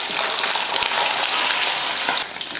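Eggs frying in oil in a kadai give off a loud, dense sizzle with fine crackles, steady and close for the whole stretch.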